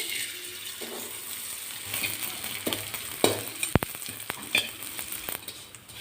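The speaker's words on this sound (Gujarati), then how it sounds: "આ રીતે મેં ગુંદરને નાના નાના ટુકડા કરી લીધેલા છે જેથી કરીને આપણને તળવામાં સરળતા રહે તો એ પણ આપણે થોડો થોડો એડ કરી અને તળી લેવાનો છે" Small pieces of edible gum fry in ghee in a kadai with a continuous close sizzle, broken by sharp scraping and clinking strokes as they are stirred.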